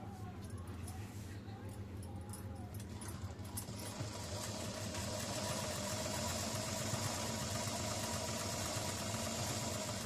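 A sewing machine runs at a steady hum and buzz while stitching the embroidered edge of a dress, starting softly and growing fuller and louder partway through, with someone talking over it.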